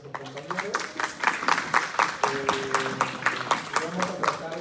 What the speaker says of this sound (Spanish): les pido nuevamente un fuerte aplauso para sus compañeros